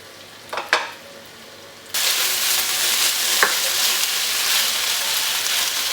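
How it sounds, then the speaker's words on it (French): Beef frying in a wok while being stirred, a sudden loud steady sizzle starting after a couple of soft knocks, with an occasional clink of the utensil against the pan. "Il faut maintenant laisser cuire la viande en remuant de temps en temps."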